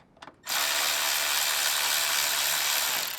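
Ratchet wrench clicking fast and steadily while loosening 10mm brake line bolts at a car's brake caliper, loud and close, after a couple of brief knocks at the start.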